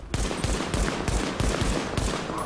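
Handgun fire in the video game The Division, the pistol set to double tap: about eight sharp, evenly spaced shots ring out close and loud, with no talking.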